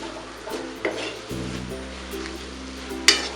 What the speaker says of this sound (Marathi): सर्व मिश्रण आता परतून घेऊया